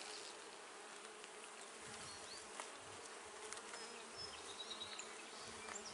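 Honeybees buzz steadily around an open, healthy hive box during an inspection, a dense, close, continuous hum with small swells as individual bees fly near.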